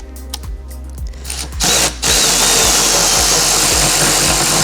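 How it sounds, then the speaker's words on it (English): A power tool with a swivel joint and torque bit works valve cover bolts on a Mercedes M156 engine, a few rhythmic clicks and taps, then a loud steady whirring drill-like buzz runs on. "Using our swivel joint and torque bit, we were able to get it."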